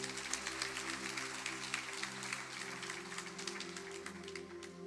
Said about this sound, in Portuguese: Aplauda Jesus pela vida dela.